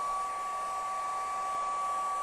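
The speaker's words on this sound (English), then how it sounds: "if you use the hair dryer now, you want to have it on low." A steady, quiet hair dryer whirs at a low setting, with a constant even hum and no voices.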